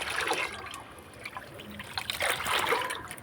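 Diluted lime water poured a little at a time onto rose plants, a soft near trickle and splashing that comes and goes in short bursts, with no talking.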